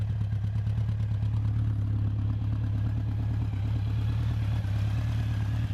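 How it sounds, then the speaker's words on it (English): A 2017 Honda CB1100RS motorcycle engine idles with a steady, throaty burble, deep and continuous, close by and loud throughout. "Hear that lovely burble, that beautiful throaty burble that it's giving out"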